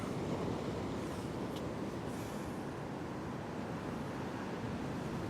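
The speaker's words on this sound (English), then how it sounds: "these waves are getting bigger and it's trickier" Ocean waves break on the coast at sunrise, a dense, steady wash of surf that sounds fairly distant and even throughout, with no voices.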